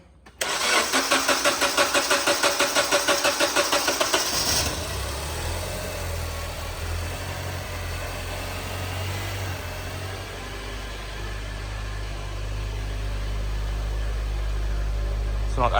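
A Honda Accord that has sat unused for about three months is cranked with a jump starter pack. The starter whirs rhythmically for about four seconds until the engine catches, then the engine settles into a steady, gradually rising idle.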